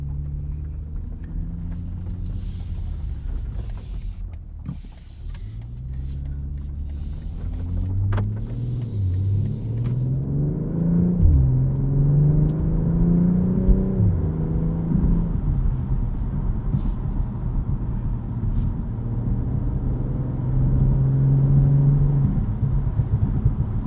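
A 2022 BMW M440i xDrive Gran Coupe on the road, a steady engine drone with rising and falling tones as it shifts, plus a few brief crackles near the start under a continuous low rumble.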